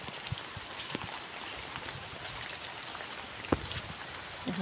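Water gushes steadily through a drain channel into a village pond during heavy flow, a continuous rushing, splashing wash with a couple of brief louder splashes near the end.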